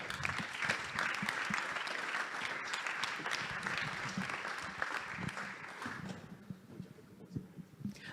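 Fairly faint audience applause at a digital-sector awards ceremony, the Mêlée numérique trophies: steady, dense crowd clapping that thins toward the end, with a few sharper individual claps.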